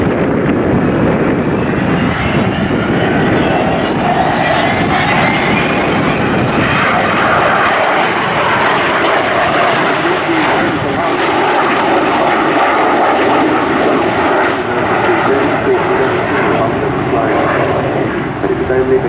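An Avro Vulcan XH558 jet bomber flies past at an airshow, its engines giving a loud, sustained roar that swells and holds throughout, with a commentator talking over the noise.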